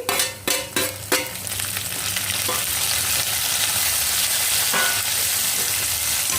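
Onions going into hot oil for ridge gourd peel chutney, a few sharp clatters of a spoon against the pan, then a loud steady sizzle and crackle of frying that holds throughout, close up with no talk.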